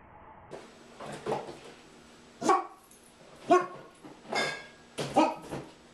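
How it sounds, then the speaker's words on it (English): A puppy barks in sharp, separate yips, about five or six spaced over a few seconds, close and fairly loud, with quiet gaps between them and no talking. "I'll show you my puppy."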